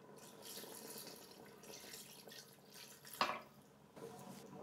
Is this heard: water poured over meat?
yes